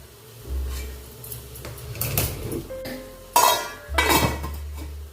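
A metal spoon scrapes and clanks against a pot as rice and water are stirred together for veg pulao, giving several loud, close metallic knocks and scrapes with brief pauses.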